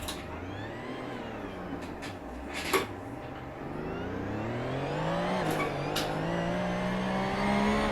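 Racing video game car driving on a DIY surge-rail motion simulator: a steady engine drone with rising and falling pitch as it accelerates and slows, constant and fairly loud throughout, with a few brief sharp clicks.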